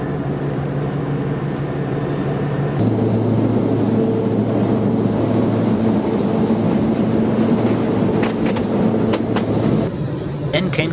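A Madagascar passenger train rumbles over a spiral section of track while climbing an escarpment, with steady loud wheel and carriage noise, a low droning hum and occasional clicks and squeals from the rails.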